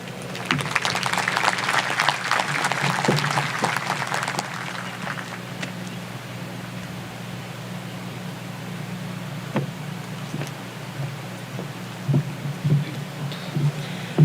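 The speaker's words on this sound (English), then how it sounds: "Please give them another round of applause." Graduation ceremony audience at Stanton College Preparatory applauding, a broad burst of clapping in the first few seconds that thins out, leaving a low hum of the hall with a few scattered claps.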